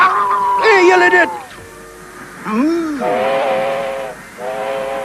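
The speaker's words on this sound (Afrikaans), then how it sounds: "Daar blaas sy fluit." Cartoon steam train whistle in a Lucky Luke episode along the Mississippi, with the train headed to St. Louis: several loud, shrill whistle blasts, one bending up and down in pitch, separated by short pauses, with faint hiss between.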